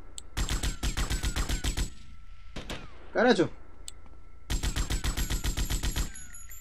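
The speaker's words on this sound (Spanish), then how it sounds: "Y aparte de que quita un montón esta metralletota." Machine gun fire in the video game GTA Vice City comes as two long, rapid bursts of close shots. Between them a man gives a short exclamation.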